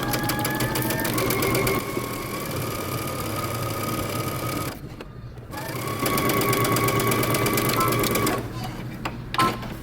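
A sewing machine stitches a dress sleeve in fast, buzzing runs, pausing briefly twice before starting again, close and steady, with a voice talking over parts of it.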